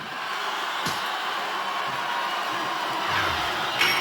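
Wrestling arena crowd in WWE SmackDown vs Raw 2008: a steady, broad roar of many voices held at an even level throughout, with a couple of brief sharp knocks partway through and a louder swell at the end.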